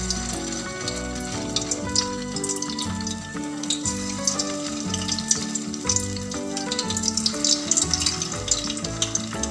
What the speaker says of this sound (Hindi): और लो फ्लेम पे ही इसको अच्छी तरह से हम फ्राई कर लेंगे।